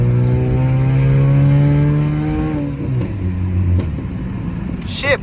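A 350+ hp Subaru STI pulls hard on a test drive, its engine note climbing loud and close and then dropping as it shifts. The revs build again afterward, and a voice briefly comes in near the end.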